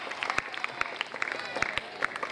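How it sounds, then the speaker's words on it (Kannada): Dense, loud applause from an audience welcoming mothers and devotees at a Basava Purana religious gathering, a continuous wash of many hands with sharper individual claps standing out throughout. "ಜೋರಾದ ಚಪ್ಪಾಳೆಯೊಂದಿಗೆ ಆ ನಮ್ಮ ಎಲ್ಲ ತಾಯಂದ್ರನ್ನ ಶರಣರನ್ನ ನಾವು ಬರಮಾಡಿಕೊಳ್ಳೋಣ"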